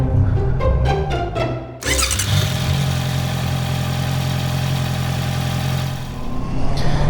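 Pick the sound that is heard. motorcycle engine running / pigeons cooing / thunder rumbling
motorcycle engine running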